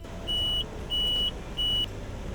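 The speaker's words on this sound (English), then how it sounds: "a warning buzzer will continually sound to remind the driver" A steady diff lock warning buzzer in an IVECO Daily 4x4 truck sounds in three even, identical pulses, each about a third of a second long, over a low engine rumble.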